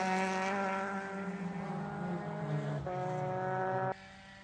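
An ITA-class Honda race car on the track at Portland during an SCCA Super Tour race, its engine holding a steady, buzzing note that shifts briefly and then drops sharply as it passes.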